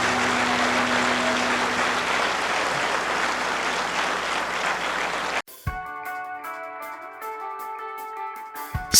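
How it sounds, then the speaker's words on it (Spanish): A church congregation applauds together at a Sunday service, a dense, steady clapping that runs loud for several seconds before cutting off abruptly into sustained organ or keyboard chords. "Dele un aplauso al Señor."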